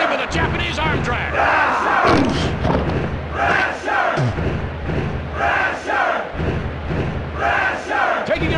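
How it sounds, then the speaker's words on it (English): A wrestling arena crowd in the WWF War Zone video game roars and cheers in loud surging waves, with thuds from the ring mixed in and a commentator talking over the noise. "The crowd is going nuts."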